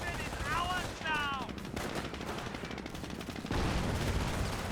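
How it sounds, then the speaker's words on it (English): Gunfire from a Jeep shooting at a mine in the Company of Heroes strategy game: rapid automatic bursts running through the clip, with a brief radio-style voice near the start and a heavier burst near the end. "now the Jeep's gonna go ahead and just shoot it"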